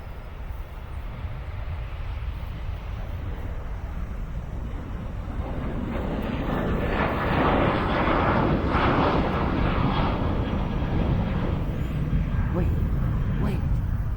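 American Airlines jet taking off at Philadelphia International Airport, a broad engine roar that builds steadily and stays loud as the plane accelerates, heard from a nearby spotting spot with people talking over it.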